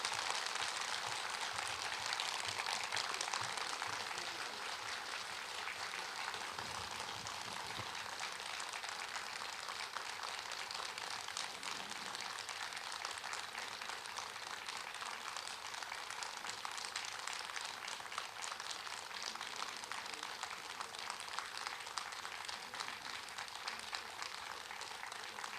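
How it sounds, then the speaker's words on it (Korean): A large audience at a Buddhist Ganhwaseon dharma assembly applauds as the Seon master enters, a steady, prolonged wash of clapping heard from a distance that holds evenly throughout. "큰 박수로 부탁드리겠습니다"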